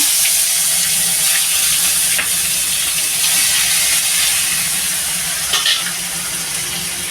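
Ginger-garlic paste sizzles in hot oil for a Bengali pabda fish curry, a loud, steady frying hiss that carries throughout with a few faint stirring clicks.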